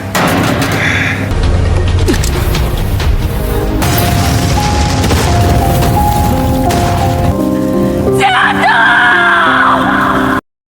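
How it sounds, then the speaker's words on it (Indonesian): An explosion tears through a laboratory in a loud film sound effect, with heavy booming roar and dense crashing noise under yelling voices, ending abruptly. "Jiadong pun meledakkan dirinya dan Laka di dalam laboratorium"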